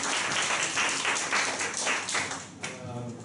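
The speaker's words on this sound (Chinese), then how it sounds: "旁边掌声欢迎王玉成的分享。" An audience at a self-introduction event applauds to welcome the next speaker, a steady wash of many hands clapping that fades toward the end as a voice begins.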